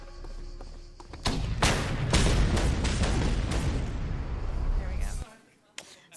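Loud rumbling booms and blasts from explosions in the video game Just Cause 2 roll together in a dense, sustained barrage, then cut off abruptly into near silence as the game freezes.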